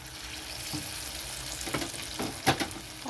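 Raw banana peel fritters fry in hot oil with a steady, soft sizzle, crackling and popping here and there, close and moderately quiet with no talking.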